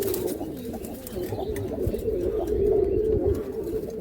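Male pigeons in a loft, including Chennai-line birds, coo in a continuous low chorus of rolling, throaty calls close by, with faint rustling and no clear talk.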